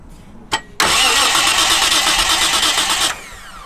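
A Japanese car's engine cranks for about two and a half seconds without firing, a loud, even, rapid whirring churn that cuts off abruptly, preceded by a brief click.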